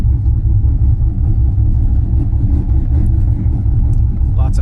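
Cars idle and rumble at the Kingdon drag strip in Lodi, California, where Corvettes and other fast cars are lined up. The low engine drone is loud and steady, and it lasts throughout with someone talking over it.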